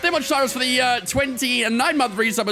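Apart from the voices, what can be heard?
None of the usual background noises is heard.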